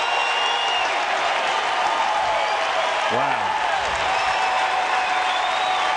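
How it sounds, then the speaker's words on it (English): A baseball stadium crowd at a college game applauds and cheers steadily throughout, a dense wash of clapping and voices, with a commentator speaking briefly over it. "listen to the crowd."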